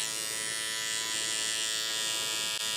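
Bevel electric beard trimmer running steadily, a close, even high-pitched motor buzz with no pauses and no talking.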